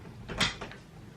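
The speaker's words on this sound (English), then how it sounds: "you know what I'm doing and you still open the door?" A door opens indoors with a single soft, muffled clunk and a brief rustle, heard faintly in a quiet room.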